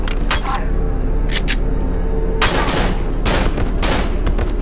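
Glock pistol gunfire in the survival horror video game Cry of Fear, several sharp loud shots in quick bursts, a pair early then a longer rapid volley, over a steady low background drone.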